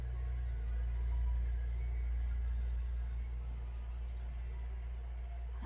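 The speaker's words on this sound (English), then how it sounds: "there is a ice cream truck on the street" Ice cream truck driving along a residential street, a low steady engine rumble close by that swells and then slowly fades, with no voices.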